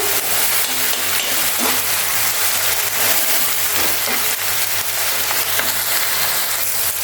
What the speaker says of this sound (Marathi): हे सुद्धा आपल्याला दोन ते तीन मिनटं व्यवस्थित परतून घ्यायचं आहे जेणेकरून त्याचा कच्चा पण निघून जाईल